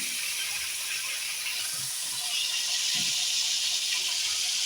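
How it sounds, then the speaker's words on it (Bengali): Hilsa fish sizzles in hot oil, giving a steady loud bubbling hiss throughout, with a few faint low knocks underneath. "আগে আমি মাছটাকে ভেজে নিই।"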